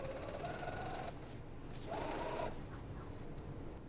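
Sewing machine stitching a satin sleeve seam for a holiday dress, with two short bursts of motor whir and needle clatter separated by a brief pause, fairly quiet and close.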